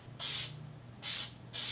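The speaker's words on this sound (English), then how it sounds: "spray a baking dish" Cooking spray hisses onto a 9x13 casserole baking dish in three bursts, two longer and a shorter final one, close and clear over a low kitchen hum.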